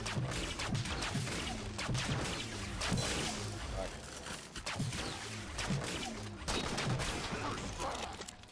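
Quiet, dense bursts of gunfire and impacts from the Halo video game's Ricochet mode, with repeated shots and crashes layered under game ambience.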